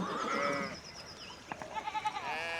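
Sheep in a medieval village in Pentiment bleat quietly, with a couple of wavering bleats followed by a short run of softer, choppier calls at middle distance.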